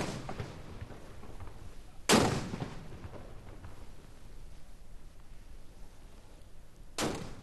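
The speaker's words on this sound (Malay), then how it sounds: "Ketibaan bulan Syawal disemarakkan dengan 12 das tembakan meriam di Taman Haji Semuda Omar Ali Saifuddin di Ibu Negara petang tadi." Ceremonial cannon salute fired by armed forces military police in a park in Brunei's capital to mark the start of Syawal: two deep, distant booms about five seconds apart over quiet outdoor ambience.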